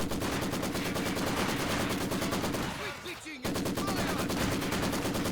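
Rapid, sustained Maxim machine gun bursts from a Company of Heroes 2 battle, loud and continuous with a brief dip midway where other distant shots and small clatters show through before the dense firing resumes.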